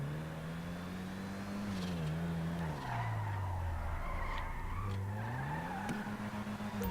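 A Vulcan Warrener car in GTA 5 Online skids on its e-brake, tires squealing loudly and continuously over a droning engine whose pitch dips and rises through the slide.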